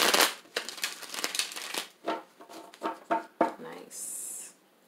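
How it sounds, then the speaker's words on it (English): A deck of tarot cards being shuffled at a love reading, with a run of crisp riffling and slapping bursts at close range, ending in a brief steady whirr. "All right, Aquarius, last shuffle."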